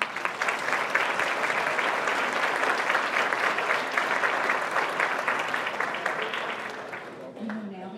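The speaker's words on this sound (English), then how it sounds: "Let's applaud all of these people." An audience at an annual meeting applauds, a dense, sustained wash of clapping that tapers off at the end, with a voice briefly audible as it fades.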